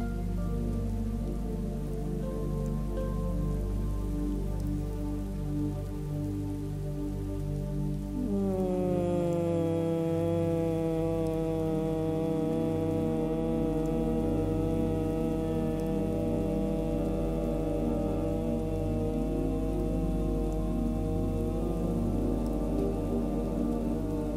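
A steady low humming breath, bhramari style, begins partway through and holds for a long stretch over faint background noise.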